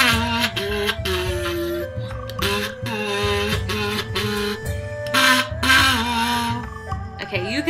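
Church music hummed through a kazoo, a buzzy, nasal melody with steady sustained notes and slight pitch wobble, played close and fairly loud, with no one speaking over it.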